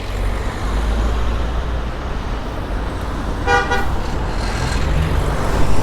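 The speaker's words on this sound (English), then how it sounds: "I can see the lorry coming through now" A lorry passing along a road beside a large stadium construction site, heard as a steady traffic roar with a brief horn toot in the middle and the rumble swelling toward the end.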